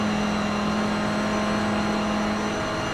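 Race car at Spa climbing through corners among BMWs, a loud, steady engine drone held at near-constant pitch from inside the car, with no talking.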